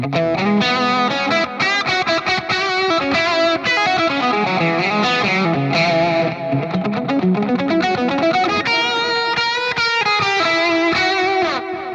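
An electric guitar through a TS10 overdrive plays a fast lead line with sustained, gritty notes and bends, loud and continuous, with no talking.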